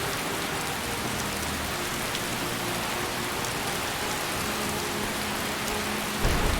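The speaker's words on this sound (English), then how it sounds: "I'm gonna wait out the storm." Steady rainstorm in Skyrim Special Edition, a dense even hiss of rain on surfaces with low rumbling thunder beneath, continuous and moderately loud throughout with a brief swell at the end.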